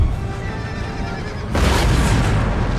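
Artillery fire in the Total War: Empire strategy game, with a Russian army on the field: a heavy, sustained rumbling burst of cannon booms cuts in halfway through, loud and close, over a bed of ongoing battle noise.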